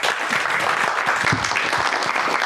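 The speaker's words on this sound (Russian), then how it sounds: "Давайте аплодируем." Steady, dense applause from a seated audience in a hall during an evening event in Gomel, a continuous wash of many hands clapping at even loudness throughout, with no talking over it.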